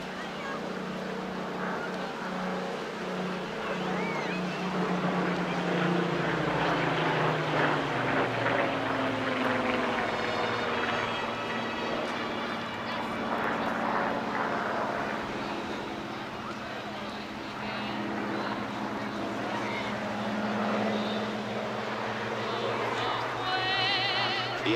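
A Hawker Hurricane, the last of over 14,500 built and first flown in 1944, flies at a seaside airshow with its propeller engine droning steadily throughout, its pitch sliding as it passes, while a commentator talks over it.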